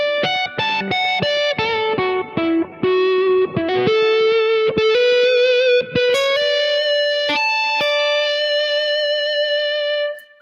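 An electric guitar played through a Kemper amp with a clean, singing, sustained tone, a flowing melodic line of held notes played alone and fading out at the end.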